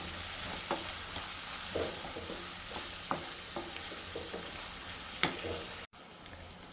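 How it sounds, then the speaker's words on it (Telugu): Onions and curry leaves fry in a pan with a steady, close sizzle, broken by a few sharp crackles and pops, then a brief cut to quieter hiss near the end. "ఇప్పుడైతే ఆనియన్స్ని వేయించుకున్నాం. ఇది కొంచెం పింకిష్ కలర్ వచ్చేంత వరకు."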